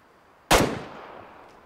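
One sharp hunting rifle shot fired at a deer in the video game Way of the Hunter, a loud crack that fades into a brief tail over a quiet background.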